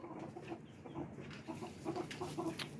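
Backyard chickens cooped up and pecking, giving steady overlapping clucks and soft squawks that pulse throughout at close range, with no talk.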